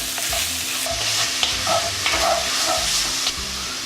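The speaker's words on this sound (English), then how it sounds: "I'm going to keep stirring this until the meat browns up" Minced beef sizzling and browning in a pan for cowboy chili, a steady close frying hiss with repeated scraping strokes as it is stirred, with no voices.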